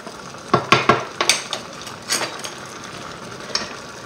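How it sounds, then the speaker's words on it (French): Chicken pieces are turned in a pan of coconut milk curry, giving a few close clacks and scrapes of a utensil against the pan, clustered early and then sparser. "on va retourner notre viande"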